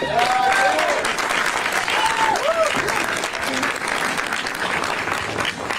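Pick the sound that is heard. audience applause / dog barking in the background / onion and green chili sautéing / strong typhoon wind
audience applause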